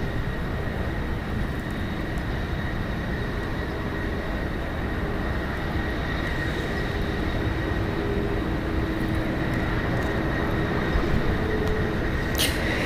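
A 23-year-old United Airlines Boeing 737-800 rolls for takeoff at San Francisco International Airport, its engines giving a steady, loud, broadband roar that holds evenly throughout with no voices.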